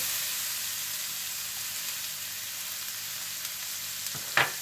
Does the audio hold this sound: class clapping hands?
no